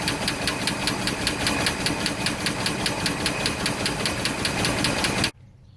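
The engine of a 1964 Ford Galaxie 500 with collapsing lifters runs roughly, a loud rapid ticking and knocking clatter over a rumbling idle, then abruptly cuts out near the end, leaving near silence.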